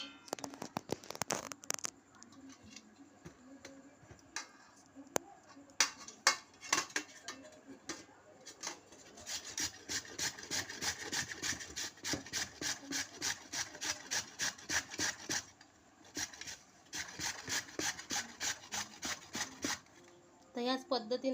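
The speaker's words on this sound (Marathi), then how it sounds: "तर याच पद्धतीने आपण पूर्ण हिरवी कैरी आपण किसून घेणार आहे." Rhythmic rasping strokes of peeled green raw mango being grated by hand, repeated scraping bursts in steady runs with short pauses, close and fairly quiet, with occasional speech in between.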